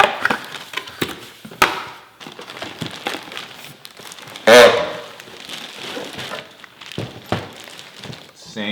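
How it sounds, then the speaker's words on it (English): Cardboard box holding a Profoto D2 flash being opened, with crinkling packaging, scraping and sharp tearing and snapping sounds in irregular bursts, loud and close. "There we go, opening up the box."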